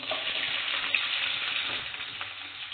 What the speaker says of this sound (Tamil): கடுகு பொரிஞ்ச உடனே வெங்காயம், கட் பண்ண வெங்காயம் சேர்த்துக்கலாம்